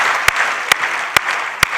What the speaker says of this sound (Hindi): दोगे ना तो तालियां बजाओ फिर जरा।